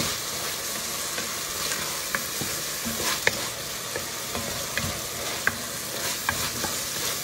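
Ingredients for a creamy rotisserie chicken soup are tossed and sizzling in a pan, a steady frying crackle with scattered stirring clinks and scrapes, close and clear with no talking.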